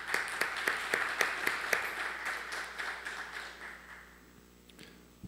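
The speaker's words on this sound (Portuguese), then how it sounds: "peço uma salva de palmas" Applause at a public hearing as a department director takes her seat, individual claps distinct and rhythmic at first, then thinning and fading out over a few seconds.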